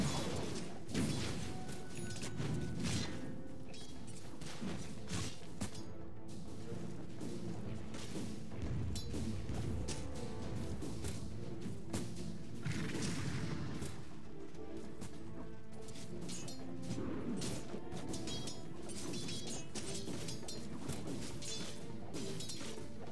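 Dota 2 match audio with dense, continuous clashes, smashes and impact thwacks as a tower comes under attack, a loud, busy battle texture lasting throughout with no voices.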